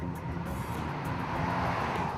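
Audi A6 diesel engine at full revs heard from inside the cabin as a low, steady, muffled murmur blended with road noise, no voices.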